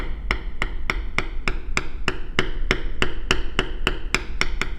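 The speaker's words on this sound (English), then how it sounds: "these outside lines, we're going to come along and bevel those all the way" A mallet strikes a leather beveler on a wristband in steady, evenly spaced taps, about three per second, close and crisp with no talking.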